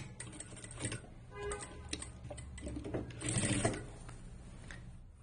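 A sewing machine stitches a narrow rolled hem on a shirt in a short, quiet run of rapid mechanical ticking. The speed swells slightly partway through.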